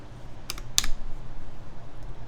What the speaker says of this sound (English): we got some OG Cherry PBT keycaps on this build. So let's try it out.